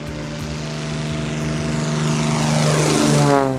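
A single-engine propeller mission plane of NTM Aviation drones steadily with a strong low-pitched hum, swelling louder as it passes close by, with no voices.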